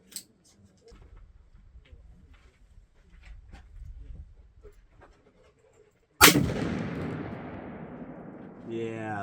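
A single loud rifle shot from a 7mm Remington Magnum in an MDT HNT26 chassis cracks out after a stretch of quiet ambient noise, followed by a long echoing tail; faint background sounds precede it.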